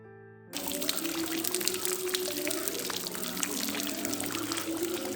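Spring water pours down from above onto rock inside a cave shrine, a steady loud splashing stream that starts abruptly and keeps falling continuously, close by and alone.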